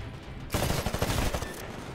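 Rapid automatic gunfire from the video game Titanfall during a multiplayer match, a dense loud burst of shots that starts suddenly and rattles on for over a second before easing off.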